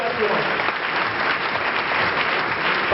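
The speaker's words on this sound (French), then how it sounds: "je vous prie d'applaudir très très très fort Monsieur Dominique Djidou" Dense, loud applause from an audience fills a diploma ceremony hall, a steady sustained clapping with no break.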